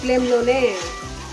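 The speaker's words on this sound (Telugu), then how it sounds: "ఇది ఎర్రగా వేగేలాగా చేసుకోవాలి" Mutton masala sizzling and frying in a hot pan, a steady close crackle with stirring under a speaking voice.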